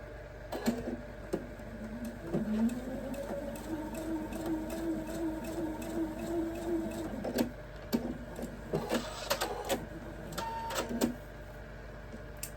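A sewing machine sews a quilt block corner to corner with a low, steady, humming whir that runs for several seconds and is broken by sharp clicks and clunks near the start and end.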